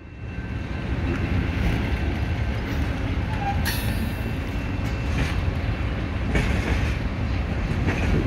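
A BNSF freight train pulls out of the Calwa rail yard in Fresno, California, a loud, steady rumble and roar of rolling cars close by with faint squeals and clanks.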